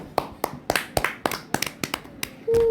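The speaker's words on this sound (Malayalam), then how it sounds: "ഓ കയ്യടി" A quick run of about a dozen sharp hand claps celebrates the winner of a Ludo game, close and bright, ending in a brief louder burst of noise.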